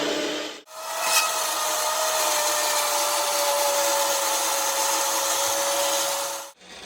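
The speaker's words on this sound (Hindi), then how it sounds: "ये देखो, ये ग्राइंड कर रहा है अभी भाई" A grinding machine runs in a steady, close whir with a faint tonal whine, starting abruptly, holding even for about six seconds, then cutting off.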